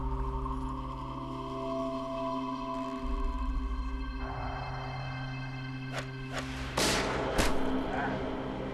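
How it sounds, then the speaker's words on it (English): Rifle shots in a televised Old West reenactment, with a Henry rifle in use, come as a few sharp loud cracks late in the segment over a steady low background hum. "The shot penetrates Loving's left hand, shattering his wrist, and then slicing into his right side"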